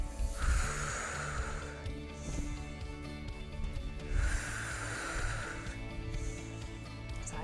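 A person breathing hard during a low-impact cardio workout, with two long, loud, close breath cycles of forceful exhaling and inhaling over faint background music.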